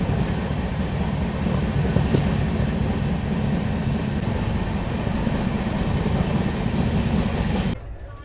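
Steady low rumble and rattle inside a Shatabdi Express chair class coach on the New Delhi–Kathgodam run, continuous and loud, with faint clicks over the running noise until it drops away sharply near the end.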